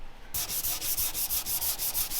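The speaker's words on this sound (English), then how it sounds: "We're going to sand concrete today." Rapid, rhythmic scratchy rubbing of sandpaper on concrete by hand, about a dozen quick back-and-forth strokes, close and steady.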